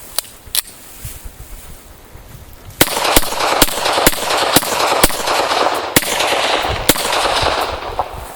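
Beretta M9 pistol fired in a rapid run of about a dozen sharp, loud shots, two isolated ones first, then a steady string of cracks at even intervals over a rumbling outdoor background.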